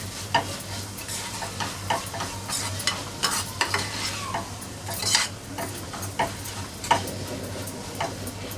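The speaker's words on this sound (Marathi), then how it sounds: "चवीनुसार आणि थोडीशी कोथिंबीर यावेळी छान परतवून घेणार आहोत" Zunka is stirred and sautéed with coriander in a hot pan, a steady low sizzle under repeated sharp scraping and clicking of the spoon against the pan at an uneven rhythm, close and fairly loud.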